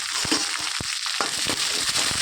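Fenugreek seeds and vadagam crackle as they temper in hot sesame oil, a close, dense spatter of sharp pops and sizzling over a continuous hiss.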